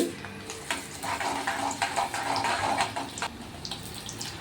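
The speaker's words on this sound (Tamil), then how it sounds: "இப்போ இதெல்லாம் அப்படியே ஒரு கடாயில் போட்டு தாளித்து எடுக்கணும்" Dried chillies, curry leaves and garlic tempering in hot oil in a kadai, with mustard seeds and urad dal, give a steady close hiss and bubbling with scattered crackles and pops. No one talks.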